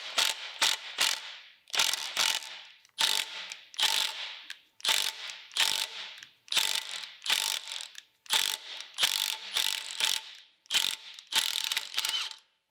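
An impact wrench works on a heated bolt of a Cummins 4BT engine, hammering in about ten loud, rhythmic bursts of rapid rattling, each separated by a brief pause.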